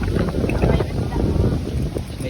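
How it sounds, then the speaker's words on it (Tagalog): Strong wind buffets the microphone in loud, gusty rushes, with boat and water noise mixed in. "Kasi malakas yung hangin ngayon."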